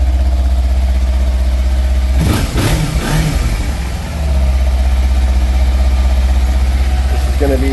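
A Kawasaki Versys 300x ABS lightweight adventure motorcycle idles with a steady, loud, near engine hum that dips briefly while a voice talks over it, then settles back to an even idle.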